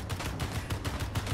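Rapid automatic gunfire from a drone in Space Engineers rattles in an even, fast stream of bursts, moderately loud and close, with no talking.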